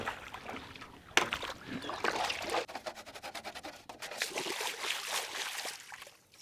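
Water splashing and trickling while plastic TV back covers are washed, with uneven sloshes and scrubbing rustles, fairly close and moderately loud.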